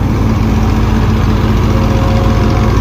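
A tractor engine runs steadily and loudly nearby at a wheat threshing, with a constant low droning rumble and a faint steady whine on top, without voices.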